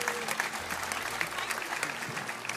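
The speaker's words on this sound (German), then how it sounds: "Applaus." A TV show studio audience applauds a child on stage, a soft, steady patter of many hands clapping at a distance, with faint voices murmuring underneath.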